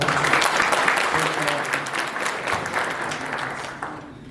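Loud, dense applause from an audience at a community solidarity evening, clapping continuously and gradually tapering off toward the end.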